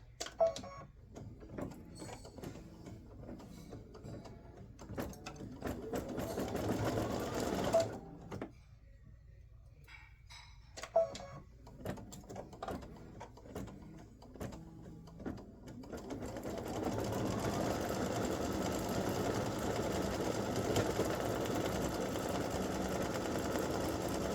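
An embroidery machine stitches the veins of appliqué rose leaves, a steady rapid mechanical chatter that pauses briefly midway, then resumes louder and more continuous, running alone without talk.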